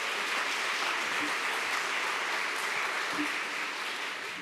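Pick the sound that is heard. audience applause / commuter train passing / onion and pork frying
audience applause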